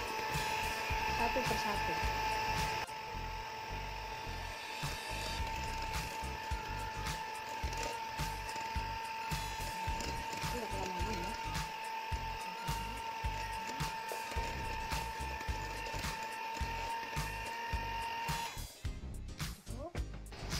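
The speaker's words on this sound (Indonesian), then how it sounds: "Ini kita mixer dengan kecepatan sedang saja ya, speed nomor 2." An electric hand mixer whirs steadily at medium speed, setting 2, beating cake batter for nastar cookies, with a constant motor hum throughout and a voice speaking briefly over it before it stops near the end.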